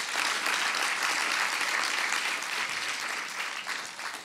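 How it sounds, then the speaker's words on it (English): An audience at a youth servant-leadership talk gives a speaker a round of applause, a dense, steady wash of many hands clapping that holds for several seconds and eases slightly at the close. "Can we give her a round of applause again?"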